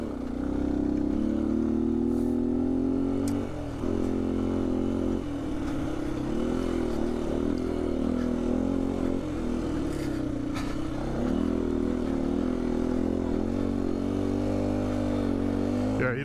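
A 2019 Beta 125 RR-S dirt bike fitted with a 150cc Yamaha big bore kit revs and bogs along a rough trail, its engine note droning loud and continuous while the throttle rises and dips, with brief lulls.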